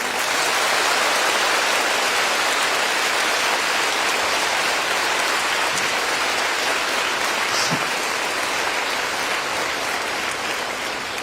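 A hall audience, urged on by a Tamil speaker praising mothers, gives louder, sustained applause. Thick, rain-like clapping holds steady and close for about eleven seconds without speech.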